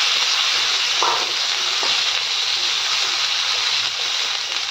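Cumin seeds fry in hot oil with a loud, continuous close-up sizzle like a steady hiss, broken only by a couple of faint clinks.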